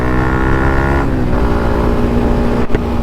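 A Yamaha MT-15 motorcycle engine drones steadily and loudly at cruising speed, its pitch dipping slightly midway, with a brief jolt near the end and no talking.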